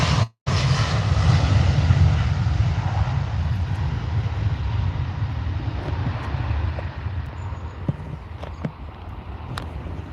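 A brand new Ryanair airliner departs Manchester Airport for Bologna with a loud, broad jet roar that holds steady and then slowly eases as it pulls away, heard outdoors with no talking.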